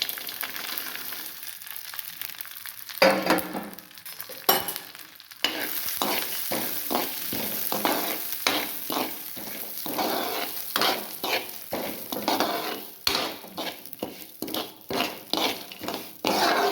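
Peanuts, chia seeds, barley and sago dry roasting in a pan, with dense rattling scrapes and clatter as a spoon stirs them steadily, no talk, for a dry fruit laddu.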